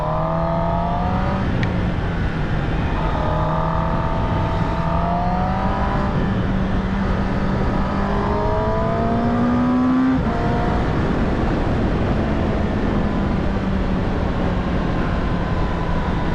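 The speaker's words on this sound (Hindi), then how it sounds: "सारा ट्रैफिक इधर आ गया है।" Busy city traffic streams past a moving motorcycle: a loud, unbroken engine drone that rises and falls in pitch over about sixteen seconds, with no voices on top.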